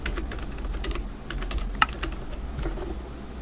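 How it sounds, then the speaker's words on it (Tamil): Fingers type quickly on a computer keyboard, producing faint, close clicking keystrokes in an irregular patter with one sharper key tap in the middle. "இப்போ நான் PK graphics டைப் பண்ணிட்டு போல்ட் பண்ணிட்டு"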